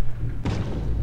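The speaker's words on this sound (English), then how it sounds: "It's him banging his head against the wall." A character in the Bendy and the Ink Machine video game bangs his head against a wall, and a single heavy, muffled thud lands over a low droning background.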